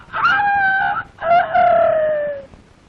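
A man imitates a rooster crowing in a Tamil film scene, giving two loud, close, drawn-out cock-a-doodle-doo calls, each cut off with a short break between them.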